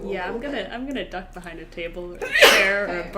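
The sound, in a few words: sneeze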